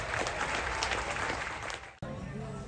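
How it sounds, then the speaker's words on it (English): Audience applause for the orchestra at a cruise ship stage show in Alaska, a dense, steady clapping that fills the room, cuts off abruptly near the end, then resumes more thinly. "Please keep the applause going for the majestic Princess Orchestra!"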